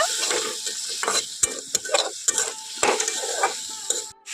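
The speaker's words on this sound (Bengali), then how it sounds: "অল্প একটু জল দিয়ে খুব ভালোভাবে মশলাগুলোকে ভেজে নেব" Spices with a green chili frying in a pan with a little water, steady sizzle under repeated scraping stir strokes, close and fairly loud, with no talking.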